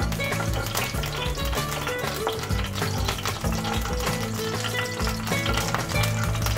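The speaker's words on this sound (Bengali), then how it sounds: "নুন হলুদ মাখিয়ে রাখা ইলিশ মাছের মাথা আর লেজটা ভেজে নিচ্ছি।" Hilsa fish heads and tails, rubbed with salt and turmeric, fry in a pan of hot oil, giving a loud, steady, dense sizzle that continues without a break.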